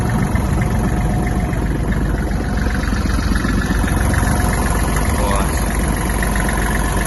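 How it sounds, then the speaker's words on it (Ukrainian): A Japanese Kubota GL-200 mini tractor engine idles steadily with a constant low rumble and mechanical chatter, close and unchanging throughout. "Ось робота двигуна дуже чиста."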